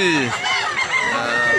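Roosters at a busy gamefowl market in Mantalungon, Barili, Cebu crow close and loud, one long call sliding into another with barely a pause, amid background chatter.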